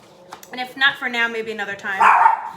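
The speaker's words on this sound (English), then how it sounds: "that's my dog, she's crazy." A dog barks in short bursts behind someone speaking indoors, the yaps mixed under her voice and growing loudest near the end.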